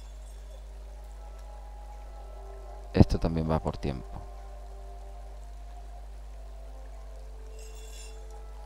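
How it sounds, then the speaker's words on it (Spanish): Water pours in the Krystopia puzzle game, a short splashing burst with glassy clinks lasting about a second over a low hum, then a voice talks. "metemos agua aquí"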